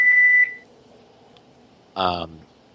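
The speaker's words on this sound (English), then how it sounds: "I'm going to get hungry probably from the sound of a microwave." A single high electronic beep from a microwave oven sounds briefly at the start, followed by quiet hum and then a short burst of a voice.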